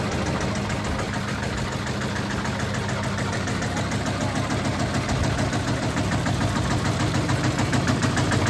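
A beach cleaning robot in Bali runs steadily while sifting sand and picking out litter such as cigarette butts, its motor droning continuously and fairly loud with a rough, knocking engine texture and no break throughout.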